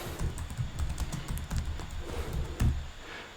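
Rapid, light clicking of keys on a computer keyboard as text is typed into a search box, close and fairly quiet, with no voice over it.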